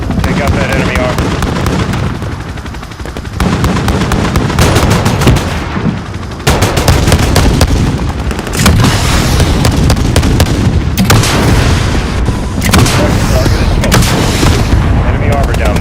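Attack helicopter gun run in Modern Warfare (2019), with a 30 mm cannon: loud, sustained bursts of rapid automatic fire and booming impacts filling the clip, briefly pausing between volleys, with radio voices heard under the firing.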